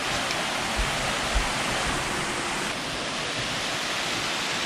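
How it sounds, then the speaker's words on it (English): A waterfall beside a hot spring pool at Bagni San Filippo in Tuscany, a dense, steady roar of falling water that stays loud and constant throughout. "There is a waterfall just here."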